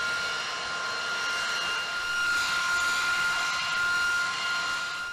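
Eight jet engines of a B-52H Stratofortress bomber run with a steady, high whining roar and tonal hum, continuous and fairly close, with no voices.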